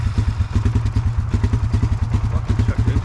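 A small quad engine idling with a fast, steady putter, close and loud, its rhythmic chugging continuing without pause.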